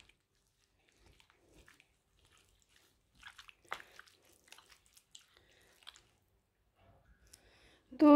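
Marinated chicken mixed by hand with fried onions, giving soft, quiet, wet squishing and sticky clicks in scattered bursts, with a louder knock at the very end.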